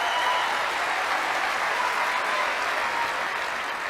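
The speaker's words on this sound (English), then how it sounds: "So thanks for those people for applauding." Audience applause, a dense, even wash of many hands clapping continuously for a few seconds without a break.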